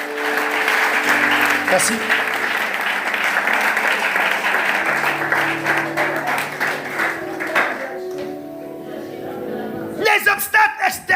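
A church congregation claps and cheers for Zaché and his team, sustained applause with crowd noise throughout and a brief spoken word near the end.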